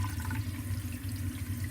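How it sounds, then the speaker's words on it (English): Cold tap water runs steadily onto a piece of ceramic clay, making a continuous close rushing splash with no talk. "I'm going to wet this first with running water, and I'm just using the cold water."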